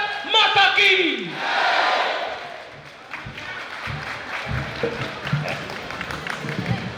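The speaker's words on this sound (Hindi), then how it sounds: "एक बार मेरे साथ बोलेंगे, भारत माता की" Large open-air crowd at a Hindi poetry recital (kavi sammelan) during an annual fair roars a loud, sustained patriotic slogan response, swelling into cheering and clapping that fades to scattered crowd noise.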